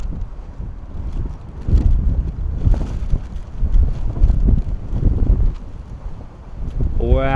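Strong 35-knot wind buffeting the microphone while plane spotting at Bristol Airport, a loud, continuous low rumble that surges and gusts, with a voice speaking briefly at the end.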